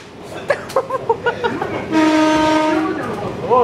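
A train horn blares for about a second inside a passenger train, a steady sustained tone following a stretch of loud voices and shouting among riders.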